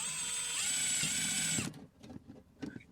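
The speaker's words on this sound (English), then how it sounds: "take a small drill that you can drill through the ABS" A power drill whines steadily at high speed drilling through ABS plastic for a moment, then stops, followed by a few light clicks and handling sounds.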